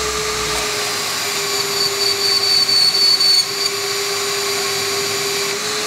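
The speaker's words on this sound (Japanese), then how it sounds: "じゃあ次バンドソーで切っていきます" A floor-standing band saw cutting through a threaded rod gives off a loud, steady machine whine with a constant hum, running continuously and close with no talking.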